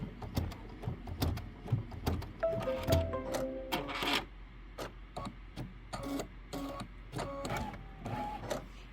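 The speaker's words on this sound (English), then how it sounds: "And then we're going to stitch the ruffle placement line." A sewing machine stitches the ruffle placement line on a mini quilt, its needle tapping in a steady rapid rhythm, close and fairly loud, with brief pauses and a tonal whir from the motor midway.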